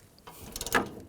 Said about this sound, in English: I'm gonna use a 13mm socket. Take this bolt out here.